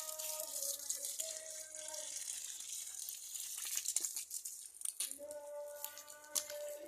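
Water is poured onto potted plants at home, a soft, close trickle and splash into the soil that runs for several seconds with brief pauses and faint rustling, without any talking.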